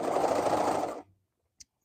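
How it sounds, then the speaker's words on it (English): A sewing machine runs in one fast steady burst while hemming sleeves on a cover stitch, close and fairly loud, then stops abruptly, leaving a brief small click in the quiet. "I needed to hem these sleeves real quick so that I can change the thread color in the cover stitch"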